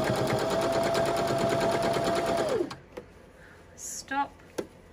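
A sewing machine stitches the layers of a Christmas stocking in a steady, rapid run for a few seconds, then stops, followed by a few faint clicks and fabric handling.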